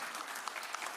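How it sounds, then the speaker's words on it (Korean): A brief burst of audience applause for newly elected regional leaders at a ceremony, dense and steady clapping from a crowd, fairly distant and even throughout. "오늘 이 자리에 함께한 당선자 여러분 모두를 격려하는 마음으로 큰 박수 한번 보내주시면 감사하겠습니다."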